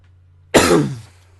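A single harsh, close cough bursts out after a moment of quiet, then fades away.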